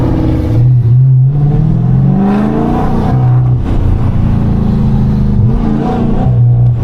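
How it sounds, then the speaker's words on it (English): A Dodge Scat Pack with no hood accelerates, its engine intake roaring loud and close with rising and falling revs across repeated pedal presses. "every time I slightly press the pedal, I hear nothing but that intake"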